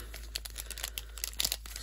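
Crinkly plastic crackling and tearing up close, a quick burst of handling noise as a Pokémon card blister pack is pulled open.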